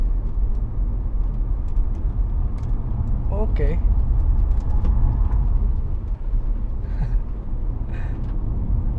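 A BYD Seal Performance electric car is driven through a handling test on a proving ground, its steady low road and cabin rumble continuing throughout, with brief talk and a short exclamation.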